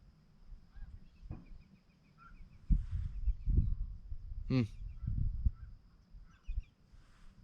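Several goose honks sound across a murky, foggy outdoor background, a louder run of calls midway, mixed with low rumbling noise.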